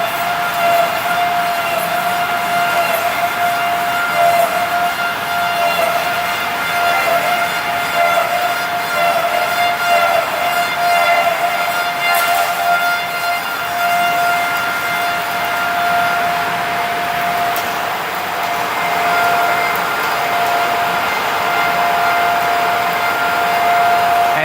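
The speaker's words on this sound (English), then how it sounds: "We almost complete the rough cutting." Bacci T4MO CNC lathe rough-cutting a curved, non-coaxial part, giving off a steady high whine and continuous machining hiss that stays even and loud throughout, with no voices.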